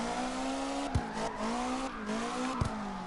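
Simulated tires squeal continuously in a drift in the CarX Drift Racing game, a steady high whine over engine drone, with two brief sharp thumps.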